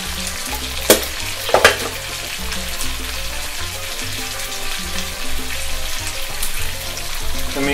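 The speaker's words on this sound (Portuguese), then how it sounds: "Vou dar uma dourada em tudo." Lamb and vegetables sizzle while browning in a paella pan, a steady close frying hiss with a couple of sharp crackles and pops near the start and the sizzle swelling slightly toward the end.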